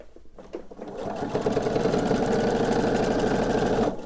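Sewing machine stitching binding onto a quilt, starting after a brief pause and then running as a loud, steady, fast whirring hum until it stops near the end.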